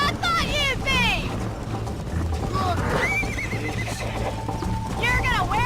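A horse in the Red Dead Redemption video game gallops with rapid clip-clop hoofbeats and gives several loud, high whinnies, with a voice speaking over the action.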